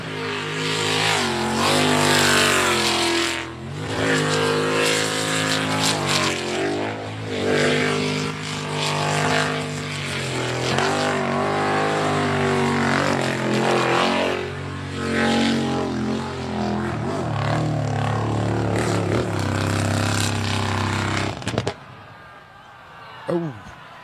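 A 1000 horsepower Jolly Roger superboat races by with a loud, sustained engine roar that rises and falls in pitch, with people talking over it, before the roar drops away near the end.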